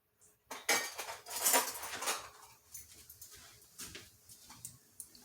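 Tiny metal teaspoon measures clink and rattle together up close, a burst of jangling at first followed by lighter, scattered taps and clicks.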